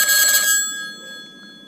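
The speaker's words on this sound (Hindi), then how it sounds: "काफ़ी कमाल के टेलीफोन रिंगटोन्स आपको यहाँ सुनने को मिलती है" An electronic telephone ringtone chimes with bright sustained tones, loud at first and then fading into a soft lingering tail.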